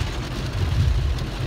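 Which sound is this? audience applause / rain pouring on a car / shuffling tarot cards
rain pouring on a car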